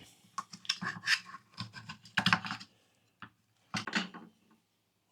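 A knife cuts a sirloin steak at a camp cooking setup, producing close, scratchy slicing and scraping bursts in short uneven strokes with quiet gaps between.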